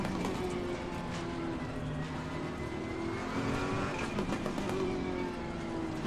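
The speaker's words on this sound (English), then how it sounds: "I really like the Ferrari for sound effects. I think it sounds amazing." Ferrari race car engine in the Assetto Corsa Competizione racing game, a steady loud droning roar with shifting engine tones held throughout, some tire squeal mixed in.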